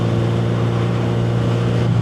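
Honda Bol d'Or motorcycle, a barn find left unused for years, idling steadily with a deep, continuous engine drone and strong low harmonics, recorded close with wind noise over it.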